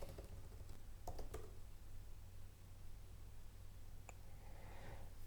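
A few quick keystrokes on a computer keyboard while entering a terminal command on a Mac, faint clustered clicks near the start and one more a few seconds later over steady background hiss.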